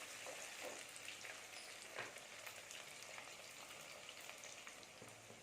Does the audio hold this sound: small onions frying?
yes